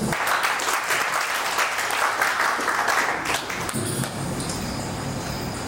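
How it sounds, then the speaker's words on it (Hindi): Loud, dense applause from a celebration gathering's audience fills the space continuously, easing slightly in the final seconds as the clapping thins. "एक बार जोरदार ताली सभी के लिए"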